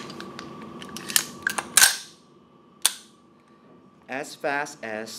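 A VFC HK416C gas blowback airsoft rifle gives sharp metallic clicks and clacks as the bolt locks back, heard up close, followed by someone talking.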